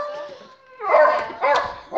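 A pet dog barks and yips close by, a couple of sharp whiny bursts after a higher whimpering tone, with faint speech in the background.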